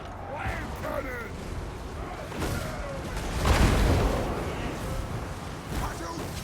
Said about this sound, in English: Obey me! Wave cannon!